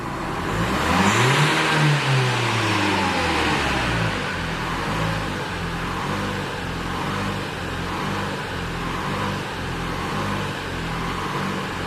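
Renault Kadjar 1.5 dCi diesel from 2016, unable to rev up after a service, labours with the accelerator floored. The engine rises at first, then settles into a steady loud pulsing drone that holds throughout with no voices.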